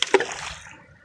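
Splash as Riley crosses a river, one sharp kerplop followed by a second splash and a short trailing slosh of water that quickly fades.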